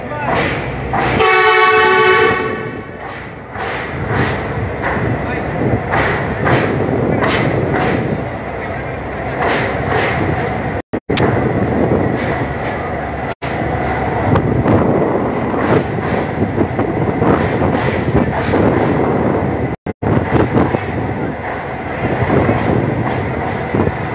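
A train on a trial run across the Padma rail bridge, a long loud continuous rumble with a horn blast near the start, rolling on for the whole span with voices underneath.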